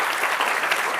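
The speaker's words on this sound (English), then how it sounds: "A round of applause for those three wonderful people." An audience at a general admission ceremony at Jesus College, Cambridge, applauds in a steady, dense patter of many hands clapping at once, moderately loud and even throughout the short burst.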